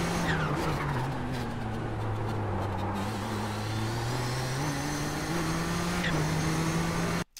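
A race car at full throttle at Long Beach in iRacing, its engine a loud, continuous close drone that climbs in pitch through the gears with short dips at each shift, under a faint tire squeal, then cutting off abruptly at the end.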